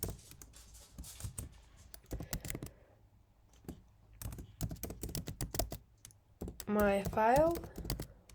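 Typing on a computer keyboard while working in a terminal: quick clusters of crisp key clicks and taps, close, interleaved with a person talking.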